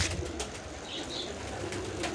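Pigeons kept by a fancier, heard as a soft, steady ambient murmur with faint cooing and a brief flutter partway through, no voices present.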